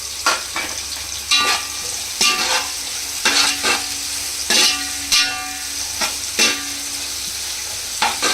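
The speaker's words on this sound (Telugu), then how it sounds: "ఇవి గోల్డెన్ బ్రౌన్ కలర్ వచ్చే వరకు ఫ్రై చేసుకోవాలి ఫ్రెండ్స్" Cashews, almonds and raisins frying in a pan for Arabian chicken mandi biryani, a continuous close sizzle broken by rhythmic scraping stir strokes about once a second.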